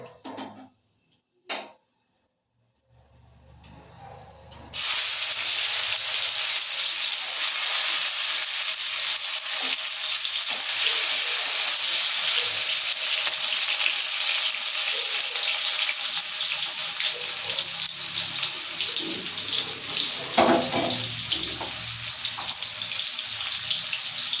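Chopped tomatoes drop into hot oil with nigella seeds after a few quiet seconds, setting off a loud, steady, broadband sizzle that holds unbroken to the end, close and alone.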